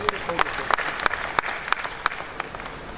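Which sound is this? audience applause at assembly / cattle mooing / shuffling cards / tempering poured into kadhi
audience applause at assembly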